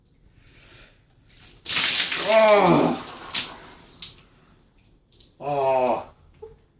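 Plain water poured over a person's head: a dense, close splash rushing for about a second, with a man crying out in surprise as it hits and another short gush moments later.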